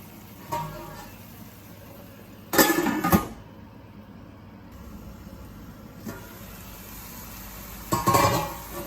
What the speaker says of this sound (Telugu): మళ్ళీ మూత పెట్టేసుకుందాం